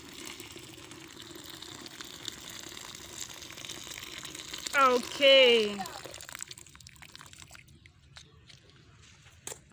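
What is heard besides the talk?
hot water poured for neem leaf steam inhalation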